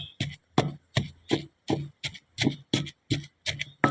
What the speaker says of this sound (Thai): ตำให้เข้ากันเลยทีนี้พี่น้องจ๋า